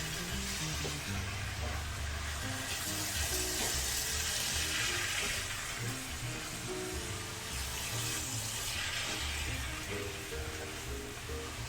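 Osso buco sizzles and fries steadily in a pan while being stirred, a continuous close crackling hiss with no talk.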